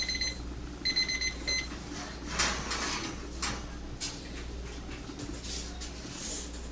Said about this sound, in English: Even the beeper going off.